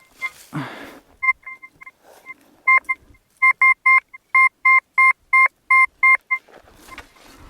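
A metal detector sounds its signal tone over a buried coin while sweeping a field near an old house: a quick run of about ten sharp, evenly spaced electronic beeps, close and clear, after a brief rustle at the start.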